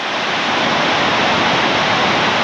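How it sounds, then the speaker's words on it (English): Steady rushing water from a small waterfall at Pierre Grey's Lakes near Grande Cache, a continuous broadband roar that stays constant and fairly loud throughout, with no voices. "So not much of a fall, but still it makes noise."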